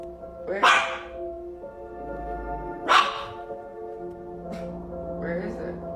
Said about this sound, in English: my dog was barking just randomly like that